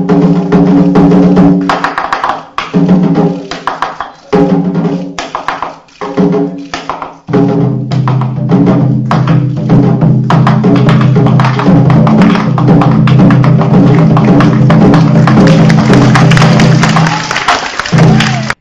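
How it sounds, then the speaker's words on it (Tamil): Indian Prime Minister Modi plays drums energetically while a Japanese musician answers on a drum in the same rhythm, producing loud, dense percussive beats with brief pauses before a sustained, full rhythmic stretch, at a stage event with an audience. "மோடி உற்சாகத்துடன் ட்ரம்ஸ் வாசித்ததை அடுத்து அதே தாளத்தில் ஜப்பானிய இசைக்கலைஞரும் முரசு கொட்டினார்."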